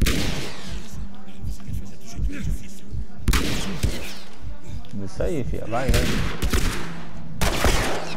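Rapid bursts of gunfire in the video game The Last of Us crackle over ongoing talk, with sharp loud shots clustering near the start and again toward the end.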